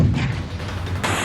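Artillery and gunfire from fighting along the Afghan border in Khyber Pakhtunkhwa, heard as a dense, continuous roar of low rumbling blasts and noisy bursts, loud throughout, with a sharper crackling burst near the end.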